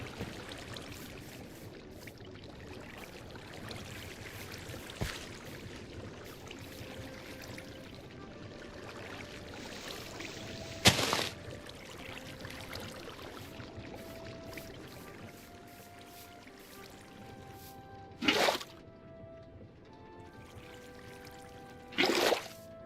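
A small waterfall in the space-themed video game Create Astral pours in a steady, quiet stream, joined by soft tonal game chimes and a few brief louder bursts, with no speech.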